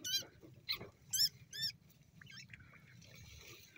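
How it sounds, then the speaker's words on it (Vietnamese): A small rat caught in a trap set along a field trail squeaks in several sharp, high bursts up close, then a softer rustling patter, with no talk. "Cái đây mình thấy dính một con chuột bẫy rắn nữa nè."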